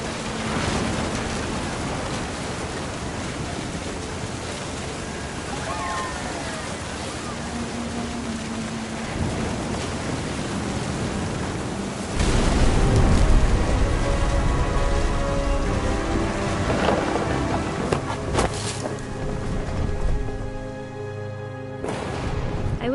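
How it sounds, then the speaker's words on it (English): Steady rain hisses through a thunderstorm in What Remains of Edith Finch, swelling into a louder, rumbling surge partway through that settles back to falling rain, with nobody talking. "The thunder sounded much too close and full of angry power."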